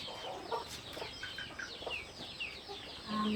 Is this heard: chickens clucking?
yes